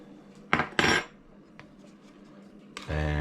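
Kulfi mixture with sugar and chili powder stirred in a pan for chilli chocolate and orange kulfi, heard as two loud metallic spoon clanks near the start, a faint knock, then another clatter near the end.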